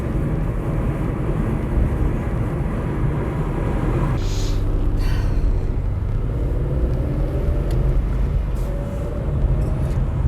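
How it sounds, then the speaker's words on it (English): A car drives along the N2 through Sedgefield, giving a steady, loud road rumble and engine drone from inside the vehicle that runs the whole time without talk. "So we're just driving along. The N2 goes through the centre of Sedgefield."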